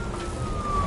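A police car siren in the video game Nobody Wants To Die sounds as one faint, slowly sliding wail, distant and brief, over a low rumbling backdrop.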